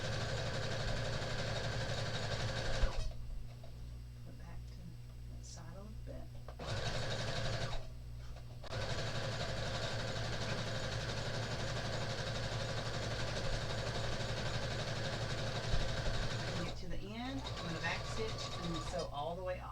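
A sewing machine stitches a two-toned tote bag with a steady close mechanical whir running almost throughout, stopping briefly twice, as a person talks intermittently.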